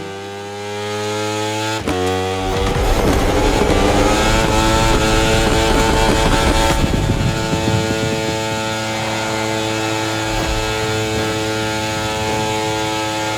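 A KTM RC16 racing motorcycle engine in The Crew Motorfest video game: a loud, buzzing, harmonic engine tone that jumps sharply in revs after a couple of seconds, then holds a steady high-pitched drone to the end.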